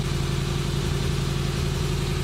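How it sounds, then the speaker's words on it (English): Suzuki Samurai engine with a Microsquirt EFI conversion revving lightly, a steady low rumble that is close and fairly loud, with even pulsing throughout and no talking. "We're going to give it a little bit of revs lightly and see what we get."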